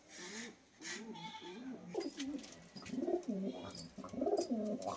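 A pair of Madrasi pigeons, green in colour, coo close by in soft, rolling repeated calls that grow louder and overlap toward the end.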